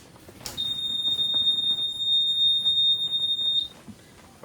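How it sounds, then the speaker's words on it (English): Suzuki outboard motor sounding its key-on warning beep: a single steady high-pitched electronic tone held for about three seconds, loud and clear over faint background noise. "Alright, got my beep."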